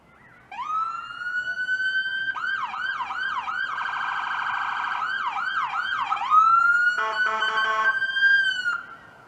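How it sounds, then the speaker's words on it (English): Dual Avenger siren on a 2016 Ford Utility Interceptor fire vehicle, loud and close: a steady wail rising in, then rapid yelping sweeps, a fast warbling stretch, more yelps, and a piercing high-low pulsed tone before winding down. "Main power up for the siren system, and of course a convenient rotary knob for selecting siren tones as needed."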